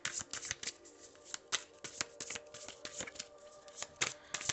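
Tarot cards being shuffled close up in a steady run of crisp riffling slaps and soft sliding flicks, with faint tonal background underneath.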